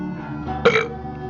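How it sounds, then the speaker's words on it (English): A single short, loud burp after a sip of beer, one abrupt belch standing out against a quiet background with no talk. "a burp and a beer"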